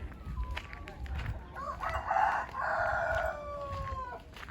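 A rooster crows on a banana farm in the Maldives. It is one clear, drawn-out call in the middle of the clip, over faint outdoor background noise.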